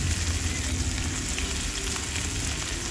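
Whole cumin, chopped onion and spices, including cardamom, cloves, cinnamon and bay leaf with ginger-garlic paste, frying in mustard oil: a steady, dense sizzle with faint crackle, close and continuous, no voices.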